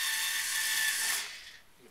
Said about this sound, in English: Deburring the holes in the mast.